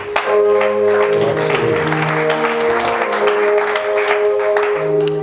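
A church congregation applauding, steady, dense clapping from a crowd that holds at full strength for several seconds, with sustained keyboard-like tones underneath.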